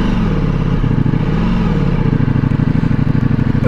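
2024 Ducati Multistrada V4S, a 170 hp Grand Tour motorcycle, ridden off-road: a loud, close, steady engine drone with a rapid pulsing beat that shifts pitch as the throttle changes, with no talk.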